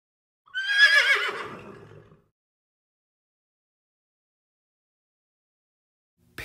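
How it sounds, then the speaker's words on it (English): A horse gives one loud whinny that falls in pitch and fades out over about a second and a half, then stops, leaving silence. "Horse."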